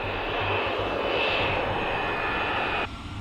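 A fixed-wing aircraft on approach to a runway, closing at about three miles a minute, makes a loud steady engine roar with a high whine that stays constant, then drops abruptly near the end.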